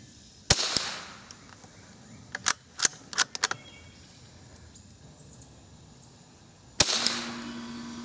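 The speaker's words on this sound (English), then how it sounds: "And we're shooting at the middle target in the top row." Two sharp rifle shots from Savage and Marlin rifles fired at a target, one near the start and one near the end, with faint clicks and handling of the rifle between them; no talking.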